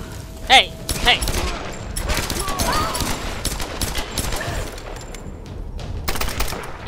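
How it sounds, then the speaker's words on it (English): A submachine gun fires in rapid bursts in the Tomb Raider video game, with dense crackling shots and explosions throughout, while a player talks excitedly over the action. "Machine gun. Submachine gun"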